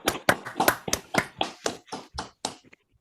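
Scattered applause from a graduation ceremony audience at a School of Management event, with about a dozen distinct, uneven claps close by that thin out and fade toward the end.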